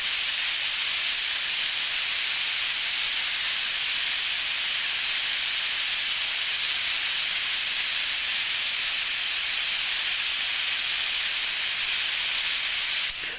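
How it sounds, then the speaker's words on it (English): Compressed air hisses steadily and loudly from a paint spray gun held open at the trigger, a constant unbroken rush for the whole stretch. "you pull the trigger halfway so that the air comes on, and then you turn this to where your desired pressure is while you're giving the gun air"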